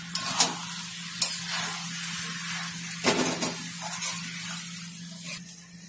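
Sugar being stirred into banana flower curry with prawns and chickpeas in a pan, soft scraping and sizzling with a few sharp spoon clatters over a low steady hum, no talk.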